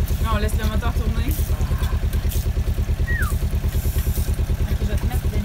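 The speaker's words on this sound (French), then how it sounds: "Là, on laisse le moteur tourner." Sailboat's inboard engine idling at a dock, a steady rapid thumping pulse running continuously, with a brief chirp and faint background clatter over it.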